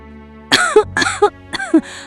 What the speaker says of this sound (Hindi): अचानक खांसी शुरू हो गई